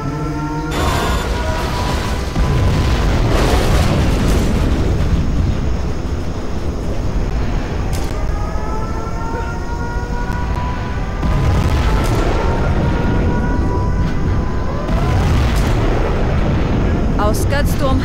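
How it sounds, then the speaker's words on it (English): Nuclear missile strikes and heavy explosions in the real-time strategy game Command & Conquer Generals Zero Hour, a loud, continuous rumbling barrage of booms with swelling blasts and whooshing tones layered over dense battle noise, with game voice announcements mixed in. "We have launched our nuclear missile."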